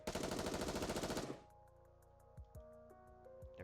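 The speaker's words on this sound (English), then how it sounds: "but is promptly assaulted by the hail of gunfire to its core." Gunfire from the video game NIKKE rattles as a loud, rapid machine-gun burst lasting about a second, then stops abruptly, leaving quiet ringing tones and a few soft thuds and clicks.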